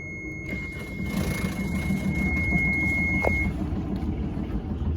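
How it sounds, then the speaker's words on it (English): The diesel engine of a 2020 Beneteau Oceanis 30.1 sailboat cold starts at the dock, with an electronic beep, then it catches and settles into a steady, low, rumbling idle close by. "I'm gonna fire up the engine, do a cold start for you."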